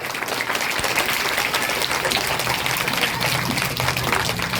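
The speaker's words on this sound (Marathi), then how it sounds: "पुन्हा सगळ्यांना सांगते की एकदा जोरदार टाळ्या वाजवा" An audience at a pre-primary school kids' talent event applauding, a dense, steady wash of many hands clapping at full volume for nearly five seconds.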